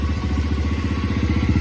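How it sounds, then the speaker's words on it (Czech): A 125cc pit bike engine runs close by with a fast, even, throbbing pulse and a slight mechanical clatter, steady and loud over the short stretch. "tak počíte, aký to má zvuk, tá motorka"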